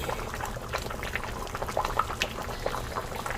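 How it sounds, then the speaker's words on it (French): A pot of chicken rice bubbles at a steady rolling boil, with a close, continuous gurgle and occasional small pops and splashes. "C'est pas encore cuit mais ça bout bien."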